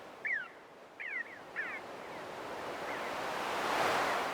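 Ocean waves wash in a gentle, steady roar that swells toward the end, while bird-like chirping calls ring out several times early on and gradually fade.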